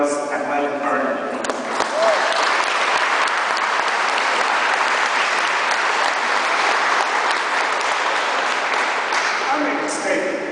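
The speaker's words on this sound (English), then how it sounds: "Give a round of applause and welcome Bernard." At a photo exhibition opening in Dublin's City Hall, a crowd delivers long, dense applause that holds steady at full strength for about ten seconds after a voice speaks briefly at the start.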